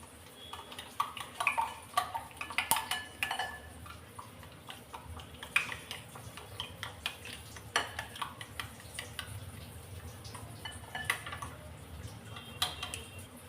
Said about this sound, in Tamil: இதை நல்லா கலந்து விட்டுறலாம்.